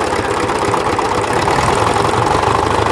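A tractor engine with low oil pressure idling at low RPM, a steady, close, rumbling chug with no speech.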